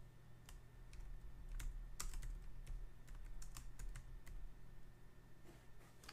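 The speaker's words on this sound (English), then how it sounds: "You guys know what I'm typing there" Keys clacking on a computer keyboard in irregular bursts, some strokes sharper and closer, with a steady low hum underneath and no talking.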